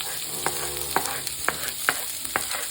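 Onions dropped onto mustard seeds frying in a hot pan give a steady sizzle, broken by five evenly spaced taps of a spoon on the pan.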